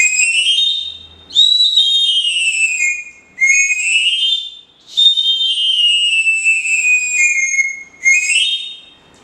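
A traditional small whistle blown alone, close and loud, in five long shrill tones with bends and brief gaps between them.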